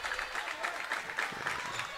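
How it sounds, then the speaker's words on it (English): A gym crowd at a WIAA boys basketball playoff game between Loyal and Greenwood applauds their team's defense, a steady, moderately distant wash of clapping that runs throughout with a faint voice underneath. "Loyal faithful here applaud their Hounds' defensive effort."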